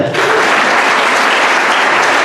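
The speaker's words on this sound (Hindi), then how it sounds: "अवंतिका के लिए एक बार जोर से तालियां बजाओ" Audience applause at a memory management programme in Bijanbari, Darjeeling bursts in almost at once and holds as a loud, dense, even wash of many clapping hands close by.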